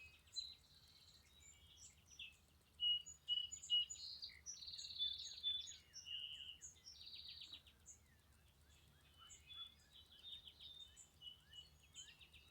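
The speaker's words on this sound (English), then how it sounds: "Listen to those birds." Several birds chirp and trill in bright, scattered phrases outdoors, faint and fairly distant over a low background hum.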